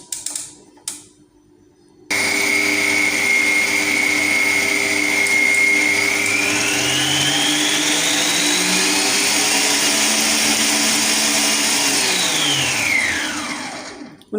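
An electric mixer stirs Turkish village bread (köy ekmeği) dough. A few clicks come first, then a steady, loud motor whir runs alone, its pitch rising partway through and then winding down near the end.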